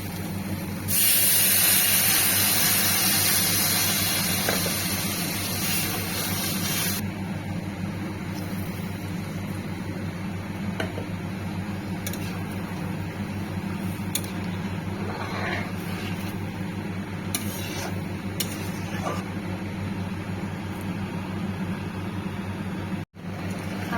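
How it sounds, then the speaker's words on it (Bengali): Potato curry broth boils in a pan, producing a steady broad hiss and bubbling over a constant low stove hum, with a few faint clicks and no speech throughout. "আমার ঝোলটা ফুটে এসেছে"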